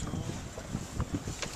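Wind rushing past a sailboat out on the water makes a steady, fairly loud broadband roar against the microphone, with faint splashy bumps underneath and no talking.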